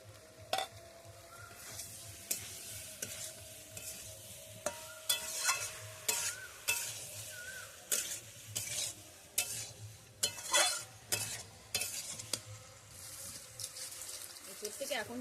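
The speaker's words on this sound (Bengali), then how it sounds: "এইভাবে হালকা আঁচে একটু এঁচোড়টা কষিয়ে নেব চিংড়ি মাছ দিয়ে।" Jackfruit and prawns are stir-fried over low heat with a spatula, soft repeated scraping strokes over a faint low sizzle, fairly quiet and close.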